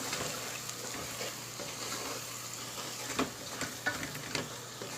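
Tomatoes frying in a pan for bhindi masala with turmeric, salt, cumin and coriander: a steady, fairly quiet sizzle, with a few soft stirring scrapes partway through.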